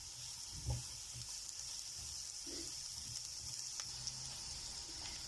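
Chopped onion sautéing in a pan until golden, a faint, steady low sizzle with a few soft stirring bumps, heard alone without talk.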